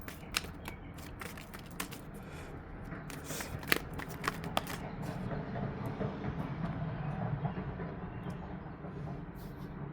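Tarot cards being shuffled by hand, a steady close riffling and flapping with sharp snaps scattered throughout, continuous for the whole stretch with no speech.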